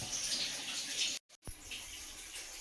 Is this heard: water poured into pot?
yes